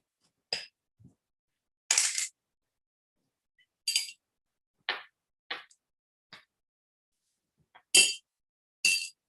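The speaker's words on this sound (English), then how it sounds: "that noise you're hearing is me dipping in the water" Scattered light clinks and splashy taps, like a brush knocking and swishing in a small jar of water, quiet and irregular with gaps between.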